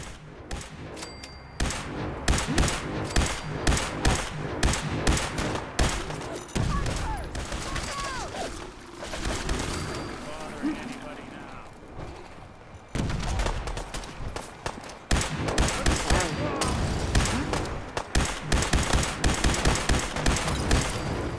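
Sustained gunfire fusillade from many weapons in Fallout 4's Far Harbor expansion, loud dense volleys of rapid shots rolling on continuously for about twenty seconds, with scattered shouting voices mixed into the chaos.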